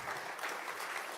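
A short burst of audience applause greets a jury member called to the stage at a student design awards ceremony, soft and somewhat distant, with dense overlapping claps.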